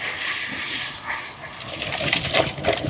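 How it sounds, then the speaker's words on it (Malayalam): Water poured into a curry masala paste in a pan for a sardine and Chinese potato curry, giving a steady close hiss and gush with a few wet splashes as it is stirred. "അതിൽ വെള്ളം ഒഴിച്ച് കലക്കിക്കോ"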